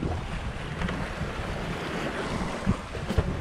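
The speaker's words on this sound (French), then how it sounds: "Allez, une petite brise légère." Steady wind and washing waves around a sailboat under a light breeze at sea, a continuous broadband rush with small splashes and knocks near the end, no voices.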